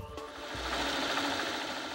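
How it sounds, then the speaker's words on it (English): An antique sewing machine running steadily, a continuous whirring mechanical drone that swells slightly after a brief click at the start, fairly loud and close with no talking. "Sitting at his antique sewing machine, Mr. Homer focuses attention on how to make"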